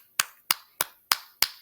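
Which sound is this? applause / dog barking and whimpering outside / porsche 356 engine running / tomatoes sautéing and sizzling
applause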